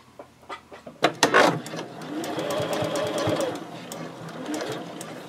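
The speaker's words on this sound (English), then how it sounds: "Get it under your presser foot, and you're just going to stitch across" Sewing machine stitching across a seam of a zippered pouch project with a clear pocket, starting with a few short bursts and clunks, then running steadily and close for several seconds before a brief pause and another run.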